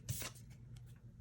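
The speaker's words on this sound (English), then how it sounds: "All right, one more shuffle" Lenormand cards shuffled by hand for a three-card spread, a short crisp riffle burst up close followed by faint soft card rustles.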